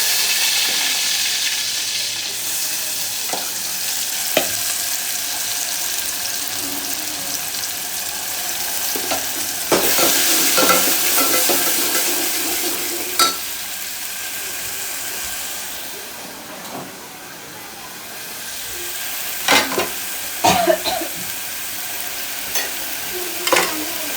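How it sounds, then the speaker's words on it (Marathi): Masala roasting in a pan for dhaba-style chicken, a loud close sizzle that swells and fades with stirring, broken by repeated scrapes and clanks of a spoon against the pan, with no talk. "आता मी चांगला मसाला हा भाजून देणार आहे"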